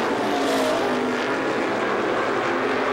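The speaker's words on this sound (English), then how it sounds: "Top 2 cars running away from the rest of the field." 350 supermodified race cars roar around Star Speedway in a 2003 race, a steady, loud engine drone from the pack passing at a distance with no voices over it.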